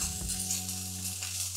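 Chilean-style steak frying in a pan, its fatty edges seared, giving a steady close-up sizzle and hiss with no voices.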